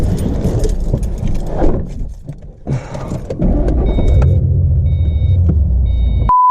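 A car with a Ford 3-valve engine cranks and catches after some keys and rustling, settling into a steady, loud low idle rumble before a short chime.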